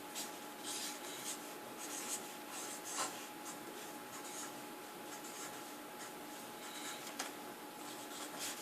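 A teacher writes on a paper sentence strip for a second-grade class, a steady scratchy marker or pencil rubbing that runs continuously at close range with small bursts of stroke emphasis.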